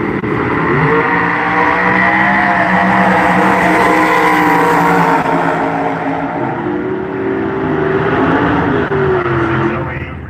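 Race cars roar at a drag racing event at Firebird Raceway in Idaho, a loud sustained engine noise with shifting pitch that carries through the whole stretch.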